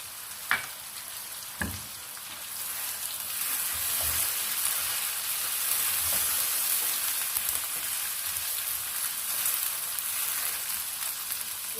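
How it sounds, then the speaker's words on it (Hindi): Chicken and tomatoes fry in a pan for a green beans and chicken curry, a steady soft sizzle with a couple of sharp clinks at the start and occasional stirring noises. "चिकन भुन गया है, अब हम इसमें ऐड करेंगे टमाटर"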